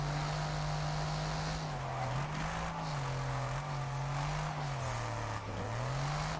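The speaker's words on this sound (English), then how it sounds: "This is a good drifting car." A car drifts in the Test Drive Unlimited Solar Crown racing game on PS5, its engine droning steadily with wavering pitch as the tires skid and squeal through a long slide.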